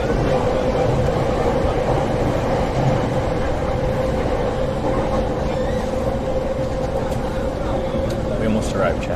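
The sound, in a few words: train moving on rails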